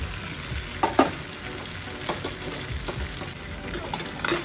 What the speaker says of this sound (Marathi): आता हे शेजवानमध्ये असे पूर्णपणे मिक्स करून घ्यायचे.